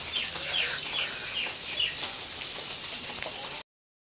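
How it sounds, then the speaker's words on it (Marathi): Steady rain patters across the whole clip at a farmhouse with a swimming pool, with a few faint bird chirps over the wash, then it cuts off abruptly. "आणि पाऊस पडतोय पूर्णपणे"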